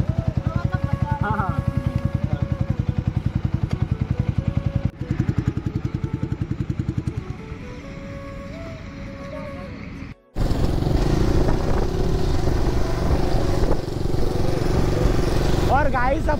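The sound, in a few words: Yamaha MT15 motorcycle riding and slowing down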